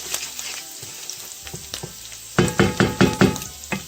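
Garlic sizzles in a pan for linguine with clams while being stirred constantly, a close frying hiss that gives way to a quick run of loud, rhythmic scraping and knocking strokes in the second half.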